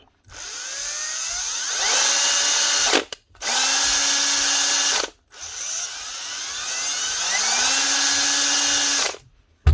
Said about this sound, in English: Noise might be just coming from the bearings, but it could be the armature as well.